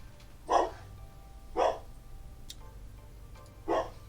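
A pet dog named Buddy barks three times at even intervals, single sharp woofs close by over a low steady hum in a quiet room, with no talking.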